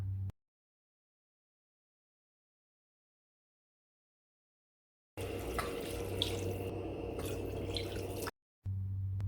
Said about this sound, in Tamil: ஒரு நாலு டம்ளர் அளவு தண்ணி சேர்த்து